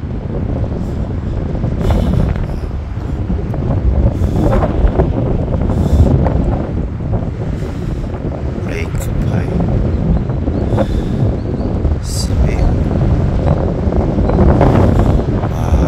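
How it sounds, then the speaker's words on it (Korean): Wind buffets the microphone on the Everis golf course in Jeju, Korea: a steady, loud, low rumble runs throughout, with voices murmuring faintly at moments. "오늘 바람 좀 부네요"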